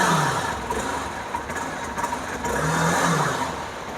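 A Hero Xpulse 200 motorcycle with an older engine runs at idle, its exhaust note a steady close-up rumble with a couple of gentle swells in throttle.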